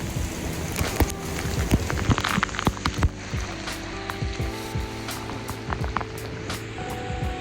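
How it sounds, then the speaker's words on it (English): Heavy rain drumming steadily on a surface nearby at a campsite, with scattered louder drops and patters over a constant wash of downpour. "It's raining pretty hard."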